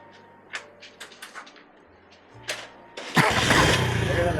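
A motorcycle in a Pakistani community is started after a few clicks and knocks, then its engine catches and runs with a loud, steady rumble close by while people talk around it.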